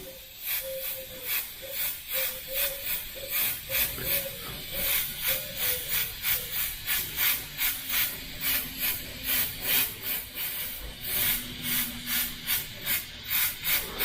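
An airbrush sprays transparent candy blue paint over white in a steady series of short, rhythmic hissing bursts, close and fairly loud, with a faint tonal hum underneath.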